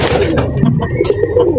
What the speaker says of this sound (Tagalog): Yan ang kalapati.